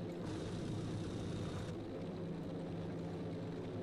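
The Mosquito bomber's engine drones steadily and loudly throughout in Battlefield V, with a constant broadband roar and hum and no voices over it.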